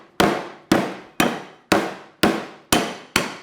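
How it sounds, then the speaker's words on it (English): A lemongrass stick is bashed seven times in an even rhythm, each strike a loud, sharp, close thump that quickly fades before the next. "I've got one more lemongrass stick, which I'm just going to bash"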